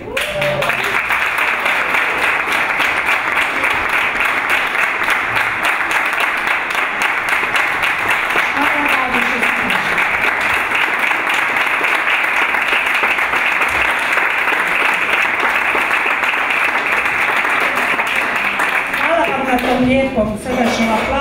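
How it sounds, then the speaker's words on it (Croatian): Warm, sustained applause from a studio audience at a talk show, loud and dense throughout, with a few voices surfacing near the end. "Srdačnom aplauzu, Gabi je sve to zaslužila i puno više."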